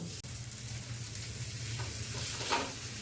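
Slices of bread frying on a hot tawa griddle, a continuous close sizzle that holds steady throughout with a faint crackle near the end, and no voices.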